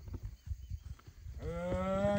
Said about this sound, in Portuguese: É boiada.